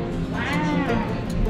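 A cat meows with a drawn-out, rising and falling call near the middle, heard up close over steady background noise and a person's voice in an outdoor cherry blossom setting at a mountain farm.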